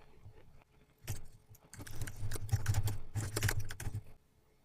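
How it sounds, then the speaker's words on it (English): Typing on a computer keyboard: a quiet burst of rapid key clicks lasting a few seconds, close by over faint room hum, with no talking. "We'll type a description."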